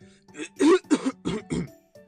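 A voice clears its throat in a few short, gruff bursts, imitating a small cough.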